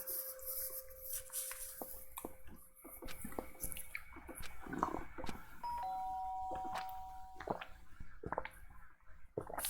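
Two-tone chimes from a doorbell ring out in the Danganronpa Trigger Happy Havoc video game, with clear sustained tones over faint game background noise and scattered soft clicks.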